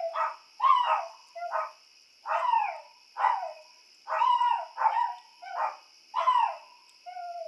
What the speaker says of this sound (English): You can hear Gizmo barking.